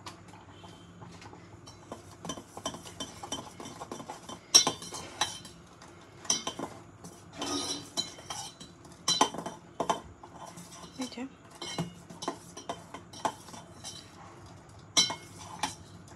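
A utensil stirs and scrapes cream pasta with chili in a pan, a rapid, irregular run of close metallic clinks and taps with louder knocks here and there, sometimes under speech.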